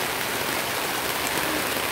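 During a storm at a campsite, steady heavy rain falls on and around a tent as a dense, unbroken hiss, loud and close, with no talking.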